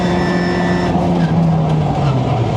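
A Lamborghini Murciélago on track braking hard, its loud engine note sliding downward while the tires squeal under heavy deceleration, close and continuous.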